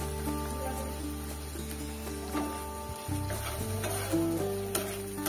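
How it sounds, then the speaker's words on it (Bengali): Chopped tomato tipped into onions frying in a pan for a Bengali koi fish curry, a steady sizzle that shifts and briefly flares near the middle as the tomato lands, with a faint tonal hum underneath. "এইবারে দিয়ে দেবো কেটে রাখা টমেটো কুচি।"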